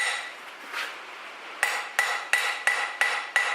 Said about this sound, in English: we're going to use the edge of this cross peen to go across the surface fairly light at an angle